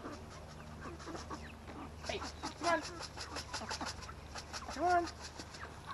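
Chickens cluck softly nearby while a person calls out to them, with a few brief louder squawks breaking through.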